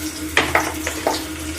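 Onions frying in a pan, a low sizzle punctuated by a few distinct scraping stirs and light clinks of a utensil against the pan.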